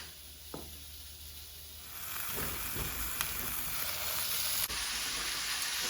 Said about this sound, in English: They'll start to sizzle.